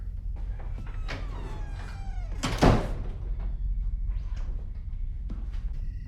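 Heavy banging at the front door of a house in the film Halloween Kills, a loud thud hitting hard midway through, surrounded by creaks, scrapes and a meow-like squeal in an otherwise quiet room.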